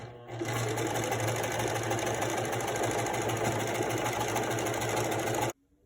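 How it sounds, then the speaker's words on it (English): A sewing machine stitches steadily down the side of a homemade fabric face mask, a loud continuous mechanical whir with rhythmic needle knocking that runs for about five seconds and then stops abruptly. "we're just gonna sew all the way down it"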